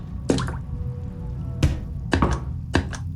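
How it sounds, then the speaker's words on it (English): Little drip-drop cue in a haunted PS1 horror game: four or five crisp, hollow taps at uneven intervals over a quiet, low ambient hum, with no voices. "When we hear that little like drip drop sound, that means there's something around here."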